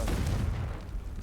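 The Confringo explosive spell goes off in Hogwarts Legacy, a single deep, rumbling boom that fills the whole moment, loud and close, then slowly fades with no talk.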